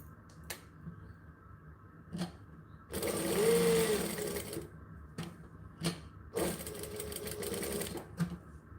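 Two sustained runs of a sewing machine chain stitching reusable face wipes, with sharp clicks and taps from handling the fabric between and around the runs. The sound is close and moderately quiet.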